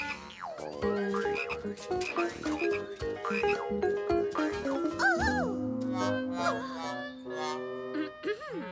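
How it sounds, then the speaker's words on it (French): Cartoon frogs croak repeatedly in a frog-hunting scene, comic croaks and chirpy sound effects over a busy music bed, steady and fairly loud throughout. "Grenouille."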